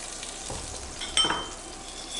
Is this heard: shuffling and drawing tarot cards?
no